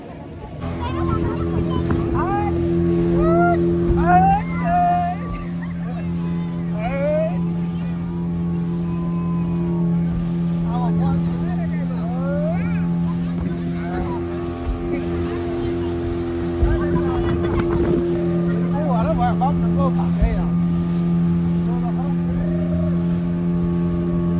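A motorboat ride out at sea off Shivrajpur, with a steady, droning engine hum running throughout under excited voices and shouting.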